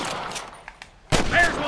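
Gunfire in the western video game Red Dead Redemption: a few sharp shots and a loud burst near the end, close, with a player talking over parts of it.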